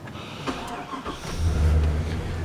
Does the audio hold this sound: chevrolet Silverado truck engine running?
yes